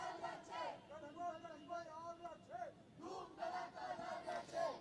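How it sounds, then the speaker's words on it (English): Spectators at an evening local cricket match, Radiant United vs Western Warriors at Sheetal Ground, chant together in rhythmic, sustained voices that rise and fall across the crowd, moderately distant and continuous. "the crowd is getting creative with their chants."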